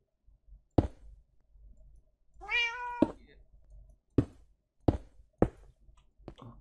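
A cat meows in the Minecraft video game, one drawn-out, wavering meow standing out clearly between several sharp clicks and taps, with no talking.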